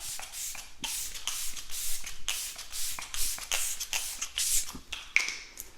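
Short bursts of MAC Fix Plus setting spray misted over a made-up face, several quick hissing puffs in a loose rhythm, close and moderately soft, with light handling rustles between them.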